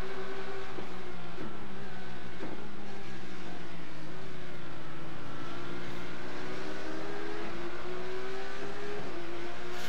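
Porsche GT3 race cars in the iRacing sim at Watkins Glen, engines droning continuously at high revs with pitch rising and falling through gear changes as several cars run close together, loud and unbroken.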